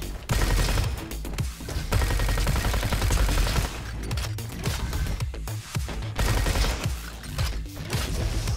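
Gunfire from a weapon in the first-person shooter Robo Quest comes in rapid, loud bursts separated by short pauses, with dense repeated shots inside each burst.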